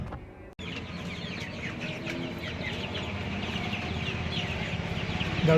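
A crowd of chickens on a rooftop poultry farm clucks and chatters continuously, many overlapping calls close by with a steady background din.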